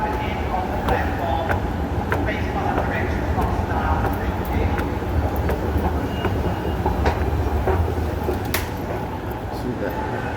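A train runs at Perth Station with a continuous rumble and clatter of wheels on rails. Occasional sharp clicks and light squeals come through, with a voice faintly under the noise.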